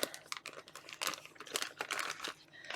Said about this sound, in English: Oh, that's a nice plastic bag quality.